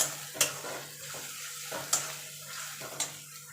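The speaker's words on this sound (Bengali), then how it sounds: "এবার আদা রসুনটা কাঁচা গন্ধ যাওয়া পর্যন্ত একটু কষিয়ে নেব।" Ginger-garlic paste fries with already-browned onions in a pan for mutton curry, a steady low sizzle broken by three sharp spatula scrapes at uneven intervals, close and with no voices.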